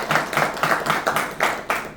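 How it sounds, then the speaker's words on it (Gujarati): An audience at a BNI business networking talk show claps for Akash Goswami, with close, moderately loud hand claps falling in an even, rhythmic beat and no voices. "એક વખત જોરદાર તાળીઓ દીધી આકાશભાઈ સાથે"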